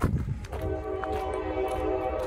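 A train rumbles steadily in the background near a parked 2011 Thomas Saf-T-Liner HDX school bus, a continuous low drone with faint higher tones, moderately loud and unbroken throughout.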